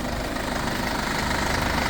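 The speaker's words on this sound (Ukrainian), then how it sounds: "Двигунчик працює ідеально" A 2018 Mercedes-Benz Sprinter refrigerator van with its engine idling, a steady, even low rumble with a slight rhythmic knock, heard close and alone without any talk.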